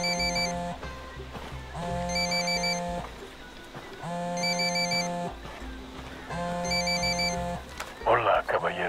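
A telephone rings in the Ghost Recon Wildlands video game, sounding four regular electronic double-trill rings with pauses between them. Voices talk over the ringing, and a short burst of noise comes near the end.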